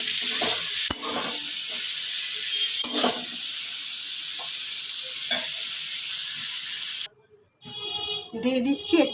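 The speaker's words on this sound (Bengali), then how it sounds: "ব্রকলিটা ভাজা হয়ে গেছে, আমি এগুলোকে তুলে নিচ্ছি।" Boiled broccoli tossed with turmeric sizzles steadily in a hot frying pan with occasional stirring scrapes, then the frying cuts off as the pieces are lifted out, followed by a few close clinks and handling sounds.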